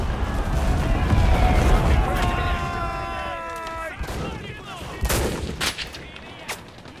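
Loud gunfire and explosions fill a battle in the video game Enlisted: a heavy rumbling barrage first, then scattered sharp shots, with voices talking over the fighting.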